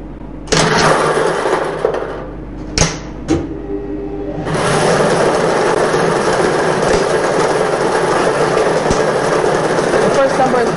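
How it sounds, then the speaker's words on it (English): Lottery balls released into a draw machine chamber for a midday double draw, a few sharp clacks followed by a loud continuous rattling whirl of tumbling balls. "The balls are released from the stage and tube into the chamber."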